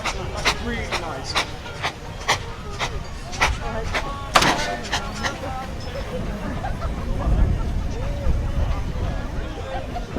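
Rhythmic chuffing of a steam engine working at full power on low revs at a steam and vintage rally, regular broadband bursts over a rumbling background, with a sharp louder thump midway and crowd babble beneath.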